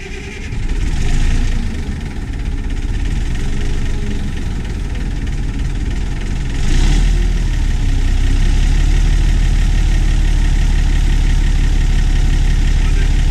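A bulldozer's diesel engine idles loudly and steadily, a heavy continuous low rumble that surges slightly and settles as it warms up after starting.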